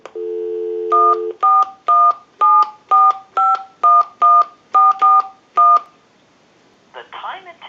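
A converted Popeye novelty telephone dials a time-and-temperature number: a brief dial tone, then about eleven crisp, evenly spaced touch-tone beeps, followed by a faint, garbled voice-like sound at the end.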